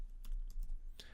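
A short burst of typing code on a computer keyboard, a few crisp, close key clicks in quick succession with no talking.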